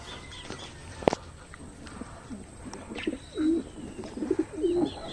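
Racing pigeons released from a loft give low soft coos and a few scattered chirps against outdoor background noise, with one sharp knock early on. No one speaks.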